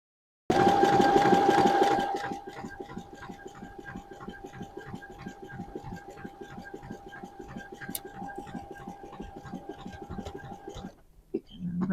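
A sewing machine stitches steadily across a seam intersection on leggings fabric, its rapid even needle rhythm running close and clear for about ten seconds after a louder opening burst, then stopping briefly near the end.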